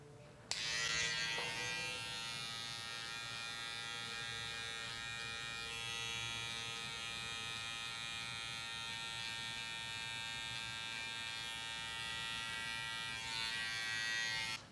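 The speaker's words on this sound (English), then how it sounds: "Next trimmer is the Wahl retro T-cuts. I'll be outlining the sideburns to the beard and also the lineup" A Wahl Retro T-Cuts trimmer buzzes steadily and close up, holding a bright, even electric hum for the whole stretch while it outlines sideburns into a beard and sets a hairline lineup during a barber competition cut.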